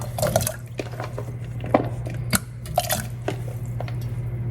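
Cold water being added to a pot on a stove with food in it: irregular drips, splashes and squishy liquid sounds over a steady low hum, close and moderately loud with no talk.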